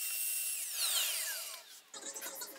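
A Festool track saw cuts a square edge along a flattened wood slab, a high whining motor with descending pitch sweeps as the blade spins down, then a rougher burst of cutting noise near the end.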